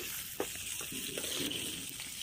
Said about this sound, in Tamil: இப்போ வெங்காயம் வதங்கிறது நல்லா பாருங்கள்